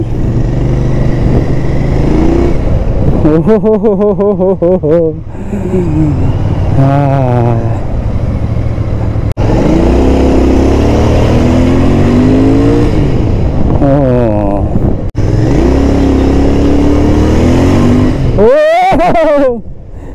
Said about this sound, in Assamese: এতিয়া বাইকখন এপাক চলাওঁ